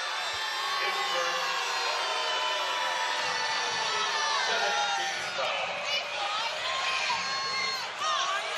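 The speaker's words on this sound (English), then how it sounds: "They're calling it on Garrett Anderson. And the crowd here does not agree" Basketball arena crowd at an NCAA men's game protesting a foul call, a loud sustained roar of booing and shouting voices that swells and dips across the whole stretch, with a commentator talking over it.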